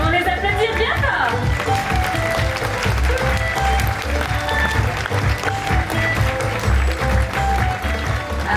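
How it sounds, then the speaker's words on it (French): Spectators at a sea lion show at Beauval Zoo in France clap loudly and continuously, a dense crowd applause with voices and a low rumble beneath, steady throughout. "Nous pouvons les applaudir bien fort."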